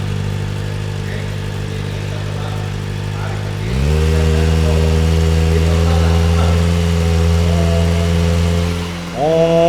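A Kawasaki ZX-4RR motorcycle engine idles up close, a loud steady hum with a strong low growl that steps up in pitch about midway and briefly rises again near the end.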